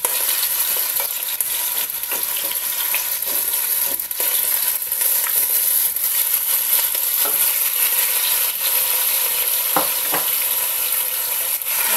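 Marinated chicken pieces sizzle steadily in hot oil over a medium-low flame, a dense continuous crackle with occasional louder pops and stirring scrapes, close and even throughout with no talking.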